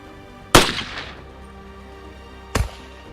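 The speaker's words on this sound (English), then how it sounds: "we've got CNR Collector shooting his M1 turbine, scoring 9 hits in 75 seconds" Two sharp, loud M1 rifle shots fired roughly two seconds apart in a timed shooting competition, each crack trailing off in a short echo.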